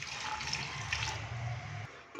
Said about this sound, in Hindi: हाफ ग्लास हम इसके अंदर पानी डालेंगे।